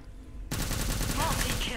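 Rapid automatic gunfire bursts from the shooter video game Truy Kích, a loud dense stream of shots starting abruptly and continuing without pause.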